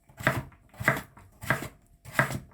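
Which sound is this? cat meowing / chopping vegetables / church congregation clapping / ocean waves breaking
chopping vegetables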